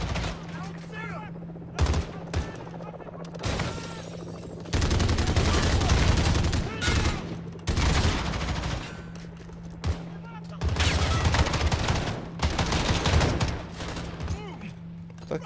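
Gunfire in the Modern Warfare 2019 campaign, dense bursts of automatic shots rattling in several long volleys with short gaps, loud and close, with a low steady hum underneath and a voice briefly between bursts.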